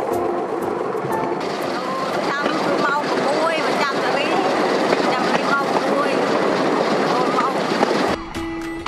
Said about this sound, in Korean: 덜커덩 소리를 내며 달리는 로리는 지붕도 칸막이도 없습니다